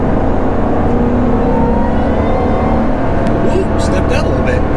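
A supercharged 2008 Shelby GT500 pulls hard out of a turn, its engine a loud, steady roar with wind and road noise filling the cabin throughout.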